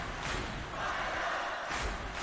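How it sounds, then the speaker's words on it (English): Crowd cheering in a college basketball video game during a Sweet Sixteen virtual tournament matchup, a steady, dense roar that swells slightly near the end, with no voices over it. "Get that crowd again. Fire it up."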